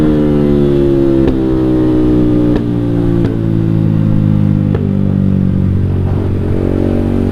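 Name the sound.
motorcycle revving with JB159 trioval exhaust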